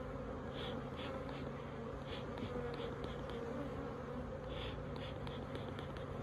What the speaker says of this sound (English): Push those bees down.